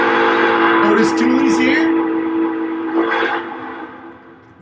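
A train whistle sounds briefly in a couple of short blasts near the start, set against a steady tonal hum while people talk casually over it throughout.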